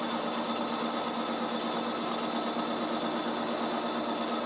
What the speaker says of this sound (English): I've got a 1/2 inch mark on my sewing machine, and I'm just on straight sewing